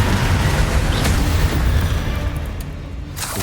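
Magical spell blasts from Confringo and Bombardment in Hogwarts Legacy, a loud continuous barrage of booming explosions that rumble and overlap throughout, tapering slightly at the end.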